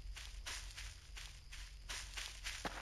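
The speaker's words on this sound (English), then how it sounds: "Footsteps." Footsteps in the Voices of the Void video game, a steady series of soft, evenly spaced steps over a low constant hum, close and moderately quiet with no talking.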